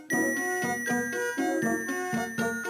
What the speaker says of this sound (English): The small flowers play quite a tinkly tone.